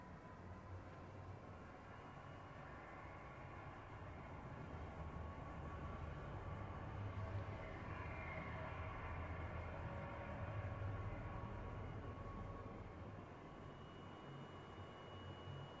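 A moving train in the Apex Legends video game gives a continuous broad rumble with a steady rolling roar that swells slightly in the middle, holding evenly for the whole stretch with no voices.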